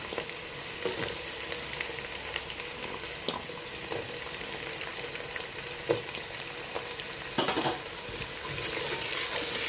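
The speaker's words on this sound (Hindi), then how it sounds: "ये जो 2 प्याज को हमने स्लाइस करके रखा था, उसको डाल देंगे और प्याज के साथ ही हम आलू के पीसेस डाल देंगे" Sliced onions and potato pieces fry in a pan for vegetable pulao, a steady close sizzle with occasional stirring scrapes and clinks, no talking.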